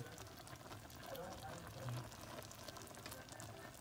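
Chicken cooked in soft drinks with pepper sizzles in a pan as the sauce reduces, a steady low frying hiss that is fairly quiet and continuous, with some faint background sound.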